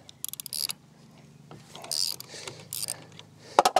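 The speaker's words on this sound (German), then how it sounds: "jetzt muss ich erstmal diese Schraube hier lösen" Mechanical clicking and ratcheting as a screw is loosened on a Toro eFlex reel mower, a few short metallic bursts with faint background murmur.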